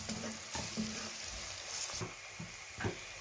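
A spoon stirs chicken curry with cumin seeds and dried coriander in a hot pan, giving a steady low sizzle broken by several scraping strokes and light clanks against the pan. The sound is faint and close, with no voices.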